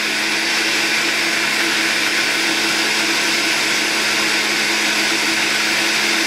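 A blender runs continuously at high speed, puréeing food with a loud, even whir that does not let up from start to finish.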